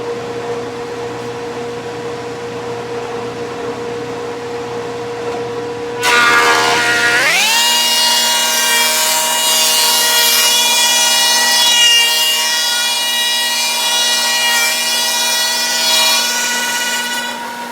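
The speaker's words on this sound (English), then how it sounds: "let's start planing" Thickness planer feeding rough wood boards for shiplap: a steady motor hum jumps to a loud, sustained tonal roar with harmonic whine as the board engages and runs through for about ten seconds, no talk.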